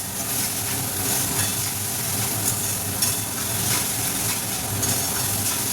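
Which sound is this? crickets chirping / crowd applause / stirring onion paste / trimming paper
stirring onion paste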